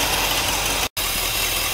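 A 1964 Cadillac engine idles steadily, a continuous close, even rumble with no talk over it, briefly cut to silence near the middle before resuming.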